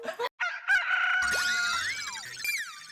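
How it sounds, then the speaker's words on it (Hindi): A chicken indoors in a house gives loud clucks, then a long, wavering crowing call that continues steadily, close and prominent. "तुम्हें मुर्गी की आवाज आई अभी?"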